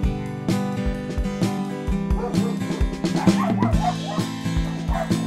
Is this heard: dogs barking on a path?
yes